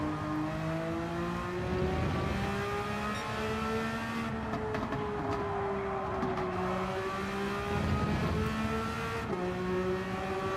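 Race car engine in a racing video game at the WeatherTech Raceway, a sustained, loud, buzzing note whose pitch climbs and dips through revs and gear changes, heard on its own without talk.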